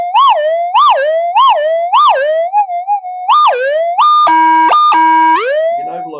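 A Minelab GPX-4500 metal detector with an 11-inch double-D coil gives loud, warbling electronic tones, rising and falling in a series of swoops, then holding steady overload tones before sliding down; no talking.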